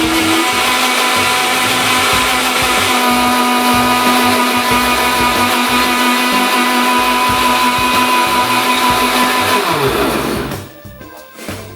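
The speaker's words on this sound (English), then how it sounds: "Prepare the blender, lid on" A blender whirs loudly and steadily for about ten seconds, blending homemade fake blood with cocoa powder, then winds down and stops near the end with a brief clatter.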